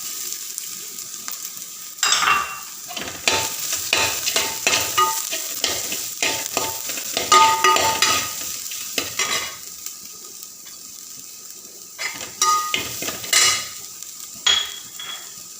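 Tapioca and grated coconut being stirred and fried in a pan, with bursts of scraping and clinking from a utensil against the pan over a steady sizzle, in irregular rhythmic strokes close up.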